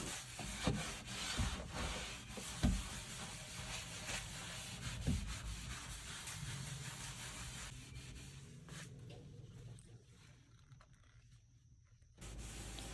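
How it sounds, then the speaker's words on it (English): Fine steel wool rubs Dark Walnut Restore a Finish into the surface of wooden hutch shelves, a steady close scratchy swishing that continues for several seconds before easing to quieter strokes. "with a fine steel wool pad, I rubbed that in to add the color back into these shelves"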